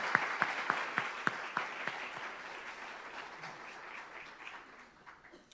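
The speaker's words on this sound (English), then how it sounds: "Let's give her a round of applause." An audience applauds, with a few distinct claps standing out at first before the clapping blends together and gradually fades.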